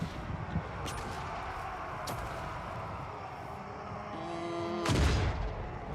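Cannons and artillery fire in a Total War battle, with sharp scattered reports and a heavier boom near the end over a continuous rumbling battle din.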